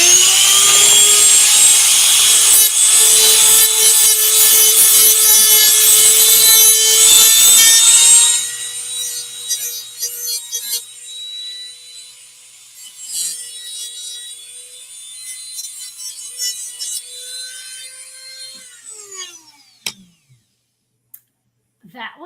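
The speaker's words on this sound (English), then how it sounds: "But I'm going to do a little notching," Wood being notched with a loud, high-pitched power tool on a ship's aft deck whines steadily for about eight seconds, followed by quieter scraping, clicks and knocks as the work winds down.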